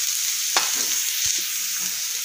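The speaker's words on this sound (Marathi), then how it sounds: "कांदा हा आपला तळला जात आहे" Onion frying gently in a small amount of oil in a pan, a steady soft sizzle with a few scraping stirs of a spoon against the pan, close and alone without talk.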